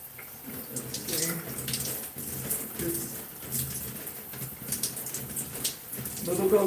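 A tap runs steadily during a hair-washing session, water splashing continuously in the foreground, with faint bird calls and some voice in the background.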